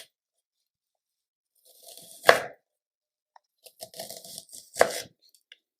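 A knife chopping an onion on a cutting board, two sharp isolated cuts a few seconds apart, each with soft crunchy rustling around it, close and otherwise quiet.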